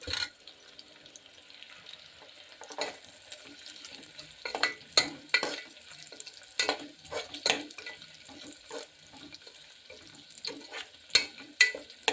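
Chopped onion stirred and frying in a pan for a North Karnataka-style fenugreek pulao, with repeated scraping and clattering bursts over a faint sizzle, near and moderately loud, no talking.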